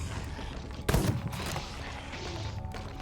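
Fireworks go off in a video game: one sharp, loud burst lands about a second in, followed by scattered crackles over a dense, noisy game soundscape.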